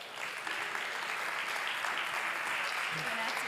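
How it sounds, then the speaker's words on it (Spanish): An audience applauds steadily for a speaker being welcomed on stage at a business automation talk, a dense, sustained clapping that fills the whole stretch at even loudness. "Un aplauso para Bego."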